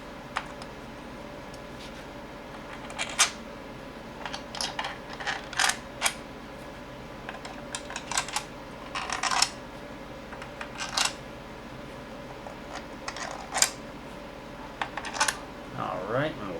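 Small Allen screws going back into a P90 housing, giving faint scattered metallic ticks and clicks at irregular intervals over a quiet background hum.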